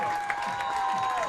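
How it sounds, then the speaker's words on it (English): Softball crowd at a Nebraska–UCLA championship game claps and cheers in a steady wash, with a high-pitched sustained tone running over it. "Nebraska fans can only clap as they watch history fly overhead"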